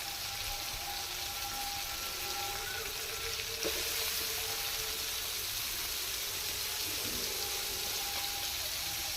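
Potatoes fry in a pan with melted tomato while cooking posto kolmi shaak, producing a quiet, steady sizzle with a soft clunk of a utensil midway, close but fairly low in level and without speech.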